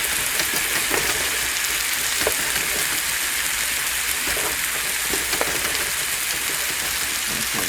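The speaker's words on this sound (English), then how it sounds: "While those are frying" Jalapeno chicken pieces sizzle in a hot pan, a steady dense hiss of frying with scattered small pops and crackles throughout, fairly close and even in loudness, with no talking.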